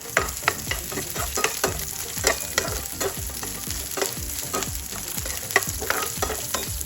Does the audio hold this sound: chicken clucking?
no